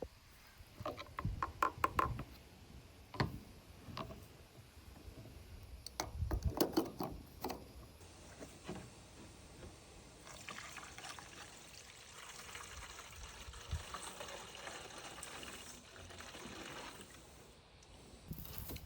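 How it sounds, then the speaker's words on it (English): A 50-50 antifreeze and water mixture poured into a Generac 25kW liquid-cooled standby generator, heard as quiet, close trickling and gurgling with a few soft clunks early on. "Now we'll add a 50-50 mixture of antifreeze and water"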